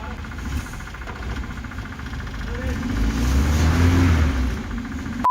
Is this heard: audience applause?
no